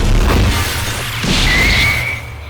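A gum cannon attack in the Roblox game Blox Fruits fires with a loud, crashing burst, followed by a sustained ringing tone over a dense rumble, all heard up close.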